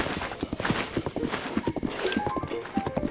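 Horse hooves clip-clop in a quick, uneven rhythm as Link rides horseback in the video game Breath of the Wild, close and moderately loud, with a brief whinny and soft melodic tones underneath.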